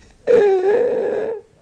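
A voice imitates the noise of a vocal fold spasm in laryngospasm: a single strained, squeaky wheezing croak lasting about a second, loud and close, alone.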